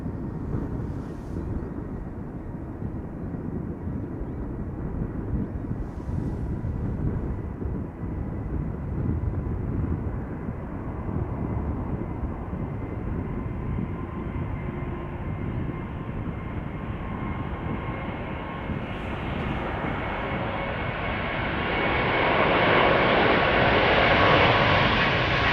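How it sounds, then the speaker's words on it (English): A Delta Airbus A350-900 spools up for takeoff at Schiphol Airport, a broad steady engine roar heard from a distance that slowly swells, with a rising whine growing louder toward the end. "It's an A350-900. Already spooling up, coming this way."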